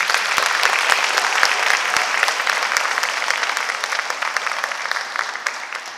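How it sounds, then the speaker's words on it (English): Sustained applause from an audience at an arangetram dance recital in the USA, dense steady clapping filling the whole stretch with a few sharper individual claps standing out, fairly close and loud. "Let's give them another round of applause."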